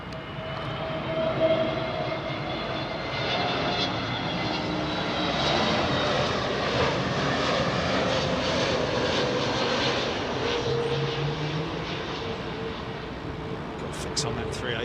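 An Iberia airliner's jet engines roar steadily on runway 27L at Heathrow, a broad sustained rush that swells and holds for the whole stretch, heard from a distance with faint voices beneath.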